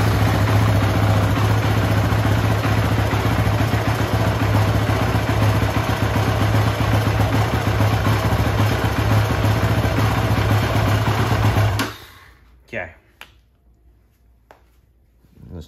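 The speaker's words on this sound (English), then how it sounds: "Engine's on. It's in neutral." Motorcycle engine idling in neutral, a loud, steady low rumble with clattery texture that runs for about twelve seconds and then cuts off, followed by a few faint clicks and knocks.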